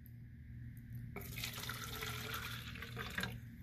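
A cup of water is poured into a container, the splashing starting abruptly after a quiet moment and continuing steadily and close, with a low hum beneath.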